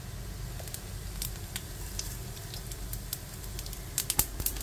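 Cumin seeds sizzle in hot mustard oil in a frying pan, giving a steady crackling hiss with a few sharper pops near the end, close and alone without talk.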